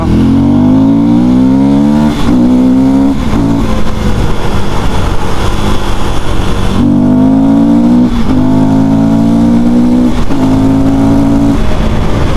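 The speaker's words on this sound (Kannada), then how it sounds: "ಈ 2024 ಡ್ಯೂಕ್ 390 ಏನು ಗುರು, ಇಷ್ಟು ನಿಂಬಲ್ಲಿದೆ ಗುರು ಗಾಡಿ ಓಡ್ಸೋಕ್ಕಿದು." A 2024 KTM Duke 390 motorcycle ridden hard: its engine revs rise and fall repeatedly as it shifts through the gears, loud and close, with rushing wind noise throughout.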